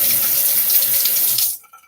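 A bathroom tap runs steadily as a razor is rinsed during a wet shave, a close, continuous splash of water that stops abruptly near the end, leaving near silence.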